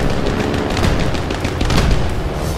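A German autocannon in the War Thunder combat game fires a dense, continuous stream of loud booming shots that blend into one sustained roar for the whole stretch.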